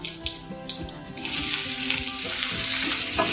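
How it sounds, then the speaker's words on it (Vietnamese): Minced garlic and straw mushrooms fry in a pan, the sizzle sharpening partway through as more goes in, with close, crackling hiss and light stirring. "Mình phi cho cái phần tỏi này vàng thơm lên rồi cho nấm rơm vào nhé."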